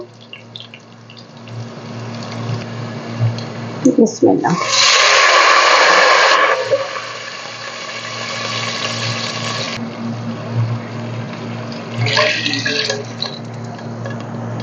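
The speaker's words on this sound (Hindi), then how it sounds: "जीरा हल्का सा कड़कड़ाए और इसमें हमने पानी ऐड करना है" Water pours into a cooking pot holding lightly crackling cumin and light-brown fried onions for rice, a loud rushing burst of a couple of seconds followed by softer splashing, with a hum underneath and a brief spoken word.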